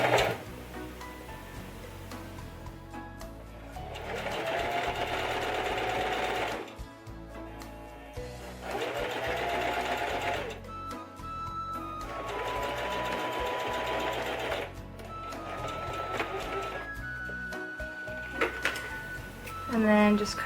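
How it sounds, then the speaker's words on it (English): Sewing machine stitching tulle onto a ribbon-trimmed tutu, close and loud in several rapid rattling bursts separated by short pauses, with someone talking in between. "going to stitch as close to the top as we can"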